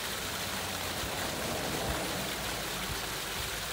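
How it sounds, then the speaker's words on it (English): A tiny river in the United Arab Emirates flowing non-stop, a steady broadband rushing and trickling of water, close and continuous with no pauses or voices. "Non-stop flowing river."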